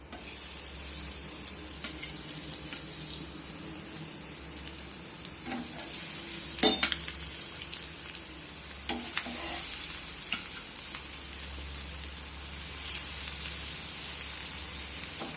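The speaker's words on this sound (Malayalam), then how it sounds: "നമുക്ക് പരിപ്പുവട അങ്ങോട്ട് ഓരോന്നോരോന്ന് വറുത്ത് കോരി എടുക്കാം." Continuous bubbling sizzle of lentil fritters frying in hot oil, with occasional soft clicks and scrapes; no speech.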